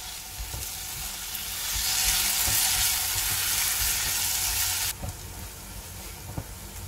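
Masala mixed with curd sizzles gently in a pan over a low flame while being stirred, a continuous hiss that swells in the middle and then drops abruptly to a softer fry, broken by light scraping and clinks.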